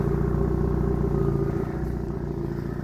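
A 2006 Lada 2110 1.6-litre 8-valve petrol engine idles steadily and smoothly up close, a continuous even rumble with no voices.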